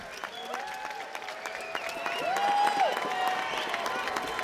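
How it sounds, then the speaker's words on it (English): A crowd at a bare knuckle boxing event applauds, steady clapping and cheering with whistles, building in the second half while commentators talk over it. "And a round of applause good."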